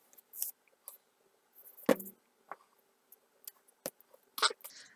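Scissors trim an oversized craft truss piece in a few short, sharp snips spaced across a quiet moment, close and crisp with faint handling noise between cuts.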